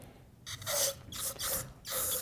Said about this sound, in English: So let's give this thing a shot of spray paint here, or glue if that's your style